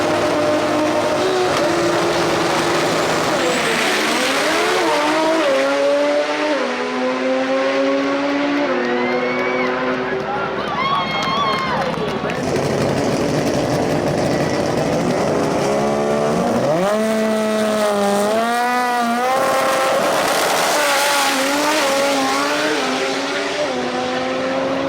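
Modified import race cars drag racing in the modified class roar past, with high-revving engines climbing through gears, rising and falling pitch sweeps and loud, sustained mechanical howl close to the track.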